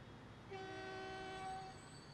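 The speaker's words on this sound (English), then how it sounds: "Got a nice, strong toot. Something you want out of a passenger train." A passenger train horn in the video game Transport Fever gives one steady, strong toot lasting over a second, clear over a soft background hum.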